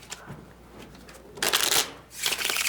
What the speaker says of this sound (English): I'll cut it back into the deck. Give it a shuffle.